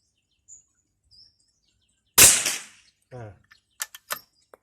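A thirty-year-old air rifle fires an Armscor pellet at a target. Near silence gives way to one sharp, loud crack, followed by a short voice and a few small clicks.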